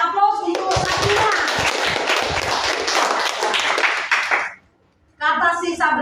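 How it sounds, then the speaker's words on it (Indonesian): Classroom clapping for a student, a burst of claps from children that runs about four seconds, stops briefly, then gives way to a voice speaking. "Ya, tepuk tangan, beri kasih aplaus untuk Sabrina."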